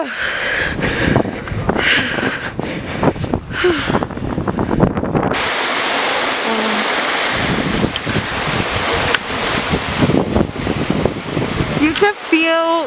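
A waterfall roars with dense, steady rushing water close by, mixed with wind buffeting the microphone, and people's voices break in at the start.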